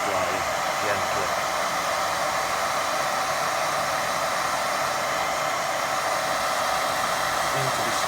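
A hair dryer running on low power to gently dry watercolour paint, a steady close whooshing hiss of blowing air that continues without a break, with no one speaking.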